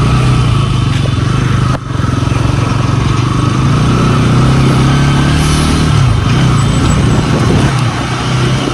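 Motorcycle riding across Farakka Bridge, engine drone steady and close with strong wind rush and a brief dip near the start, loud and continuous.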